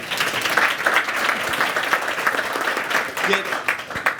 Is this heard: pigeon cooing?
no